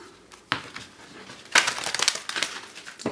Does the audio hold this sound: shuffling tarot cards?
yes